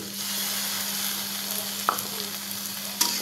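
Softened onion frying in a pan, a close steady sizzle with a constant low hum underneath and two brief clinks of a utensil.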